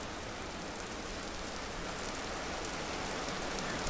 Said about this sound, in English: The rain on windows sound in this game is very pleasing